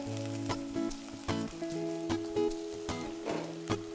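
Finely chopped onion, carrot and beans with salt sautéing in a pan for ragi noodles, a soft sizzle with a regular series of spatula taps and scrapes, close but fairly quiet, no voices.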